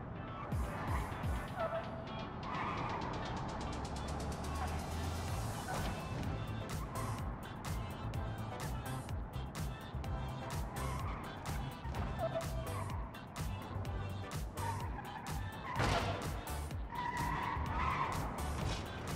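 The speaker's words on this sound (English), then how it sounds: "The ESBR 800 is the only vehicle to my knowledge which takes the climb easily and makes it look so darn easy too." An ESBR 800 car in the BeamNG driving game powers up a steep climb, its engine revving continuously with tire skids and squeals, loud and close throughout without a break.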